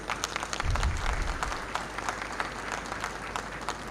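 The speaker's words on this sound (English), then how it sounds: "give a round of applause to our panelists" Audience applause for a panel at a water-resources policy event, a steady patter of clapping that stays fairly faint and even, with a low bump near the start.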